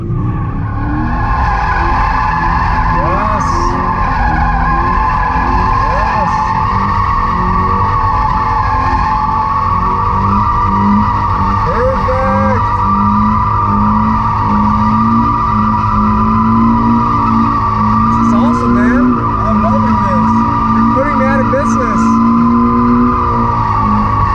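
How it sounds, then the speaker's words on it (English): A Toyota GT86 engine revs hard while tires squeal and screech continuously through a long drift, loud and close. "From drifting a GT86 to trying out the new Supra"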